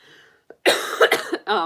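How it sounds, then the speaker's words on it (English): A brief, harsh cough bursts out in a few rough pulses after a short murmur, close and fairly loud. "excuse me, excuse my cough"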